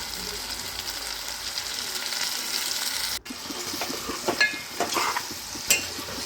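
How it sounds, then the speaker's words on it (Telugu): Country chicken pieces frying and being stirred in a pan, a continuous sizzle with a brief break, then louder spoon scrapes and clatters near the end, no talking. "ఒక 5 మినిట్స్ వరకు ఇలానే కలుపుకోవాలి, మగ్గనివ్వాలి"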